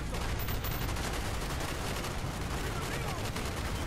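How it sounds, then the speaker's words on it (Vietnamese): Rapid bursts of gunfire from a gun in the shooter game Call of Duty: Black Ops, dense and loud, continuing without a break for the whole stretch. "Ngắm đây, súng này bắn khá là dễ, không hề có độ giật gì cả."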